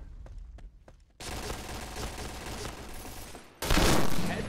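Video game gunfire: a few sparse sharp shots at first, then a sudden loud sustained roar of fire, a short lull, and another intense close burst.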